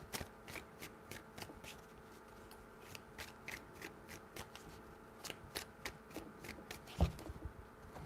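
Tarot cards are shuffled by hand in quick, rhythmic riffles, a soft, close series of papery flicks and slides repeating steadily, with one louder knock near the end.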